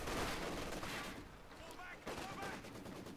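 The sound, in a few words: rifle grenade shot in video game Company of Heroes 2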